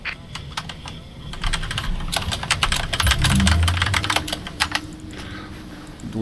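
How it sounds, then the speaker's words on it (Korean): Rapid, crisp clatter of computer keyboard typing, near and loud, in fast irregular bursts of keystrokes, with a low hum and a brief murmur in the background. "아니요 내가 타자쳐요"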